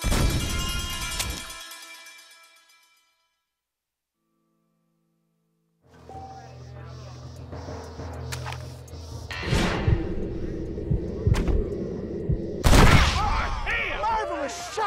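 Gunfire in a Western video game: several loud, sharp shots scattered through the second half amid crashes and game effects, after music and a stretch of near silence, with voices speaking throughout.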